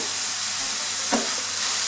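Onions frying in a pan and being stirred, with a steady sizzle throughout and a single short scrape of the spoon partway through, close and moderately loud, no voices.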